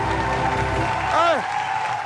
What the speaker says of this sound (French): Applaudissez encore pour Willy, s'il vous plaît. Et faites du bruit, s'il vous plaît, pour Monsieur Roga